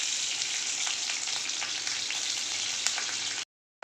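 Green chilies frying in hot oil for paneer bhurji, a loud, steady crackling sizzle that continues without speech before cutting off abruptly near the end.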